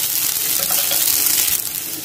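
Appe batter fries in oil in an appe pan over a very low flame, giving a continuous, close, even hiss of sizzling with no talk.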